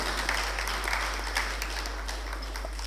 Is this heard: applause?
yes